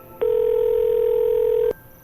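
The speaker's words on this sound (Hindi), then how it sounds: "जैसे जैसे रिंग बज रही थी वैसे वैसे श्रेया की हार्ट बीट भी बढ़ रही थी।" A phone ringback tone on an outgoing call: one steady, even electronic tone lasting about a second and a half, starting and stopping cleanly, with no voices.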